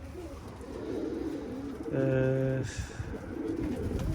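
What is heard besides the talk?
pigeons cooing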